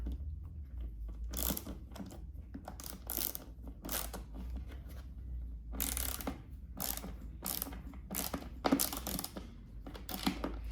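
A 3/8 inch socket drive ratchet turns in bursts of rapid clicking pawl strokes while fastening a motorcycle audio unit's wire ring connector, close and distinct against a steady low hum.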